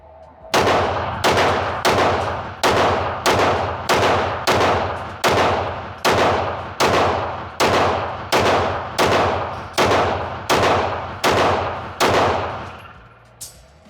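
A Fusion XP Pro pistol loaded from a Glock 17 magazine fires a rapid string of about seventeen loud, sharp shots at a steady rhythm, with each report ringing briefly before the next.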